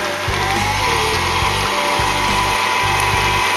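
An electric mixer whips peanut butter pie filling with a loud, steady motor whir and a rhythmic knocking as the beaters churn the thick mixture.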